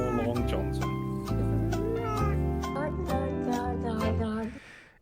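A cat meows and caterwauls in long, wavering cries from a video being played, several drawn-out calls in a row heard fairly close and loud before cutting off.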